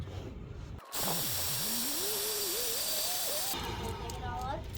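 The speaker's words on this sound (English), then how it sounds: "you're gonna hold it right here while I drill, and we'll suck that up." A power drill bores into material while a shop vacuum sucks up the debris during a truck bed camper build, the drill whining up and down in pitch over a steady, loud vacuum roar.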